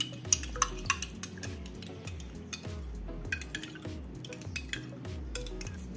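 A utensil stirs homemade oat and rice micellar water in a container, giving repeated rhythmic scraping and light clinking strokes with occasional sharp chinks, close up and alone with no talking.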